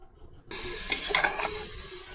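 Beef trotters being stirred in an open pressure cooker, a sudden sizzling hiss starting after a short silence, with scraping stir sounds and a steady fry underneath.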